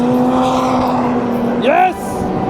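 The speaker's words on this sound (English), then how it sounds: "Green GT3 RS." A green Porsche GT3 RS sweeps past on the Nürburgring, its engine note swelling and then falling away in a quick, loud pass over a steady background hum of other traffic.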